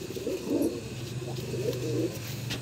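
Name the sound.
Kaldum pigeon cooing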